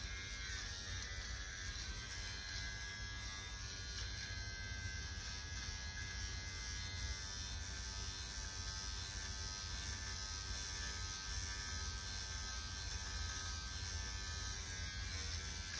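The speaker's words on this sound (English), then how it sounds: "I am shaving the ball, but I'm using the guard to take it down as low as I can." An electric shaver fitted with a guard buzzes steadily and faintly throughout, a constant close-up motor drone with no pauses.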